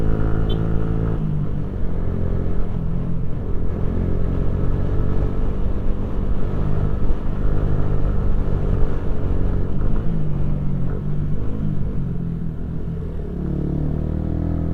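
A motorcycle engine drones steadily as the bike leans through curves on a winding road, a constant close rumble with no talking over it.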